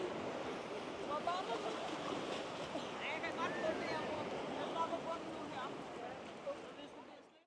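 Sea waves wash onto a Danish beach in a steady broadband roar, with wind noise buffeting the microphone throughout and faint voices drifting through in the distance.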